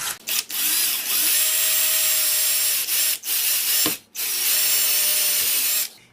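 A power drill with a dull bit bores a hole while installing an outdoor TV antenna, whining loudly and steadily in long runs broken by a few brief pauses.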